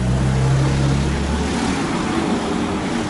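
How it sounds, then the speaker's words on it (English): A loud car rolls past on a street in the Laguito area of Bocagrande, Cartagena, its heavy low engine drone strongest in the first moments before fading into steady broadband road noise. "That car has a lot of sound"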